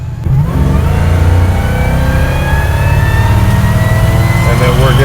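A supercharged LSA V8 in a 1967 Pontiac GTO restomod accelerates hard and shifts gears, a loud close engine roar with rising revs and abrupt shift changes, heard from inside the car alongside some talk.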